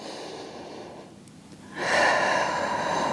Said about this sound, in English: Breathing in through the nose and out.